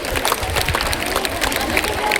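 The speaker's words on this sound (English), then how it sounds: "Let's give another round of applause to Class 8 for their wonderful presentation." An audience at a school Teachers' Day celebration applauds a Class 8 presentation, the clapping dense, steady and close for the whole stretch.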